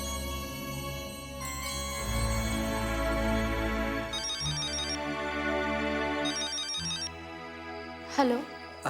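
A mobile ringtone plays as a melodic tune with repeating bell-like phrases during a phone call in a Bhojpuri village drama, steady and fairly loud, with a brief voice near the end.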